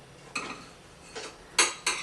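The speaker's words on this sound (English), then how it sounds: "just cut it up just a little bit to make it easier for your blender to chop up" Knife slicing fresh pineapple into chunks for a smoothie on a cutting board in a home kitchen, giving four separate crisp chopping thuds spaced irregularly across a short quiet stretch, close and clear with no voices.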